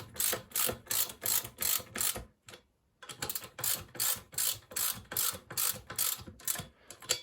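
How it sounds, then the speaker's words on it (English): A ratchet tightens the sprocket nuts on a Kawasaki Z1000, a close, rapid series of clicking strokes with a short pause partway through before the ratcheting resumes. "I'm going to tighten them in a few goes to get them up to the specified torque."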